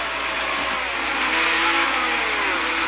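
F1 22 video game car running a worn engine, heard as a steady mid-pitched engine drone that holds loud and constant, rising slightly in the second half as the car enters the pit lane during the French Grand Prix.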